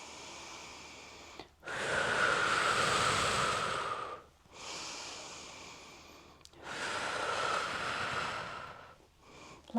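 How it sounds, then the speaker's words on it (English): Steady exhalations and inhalations from a teen Pilates class doing abdominal prep, three long breathy swells in a row with short pauses between, close and fairly loud, no talking. "Breathing in. Breathe out."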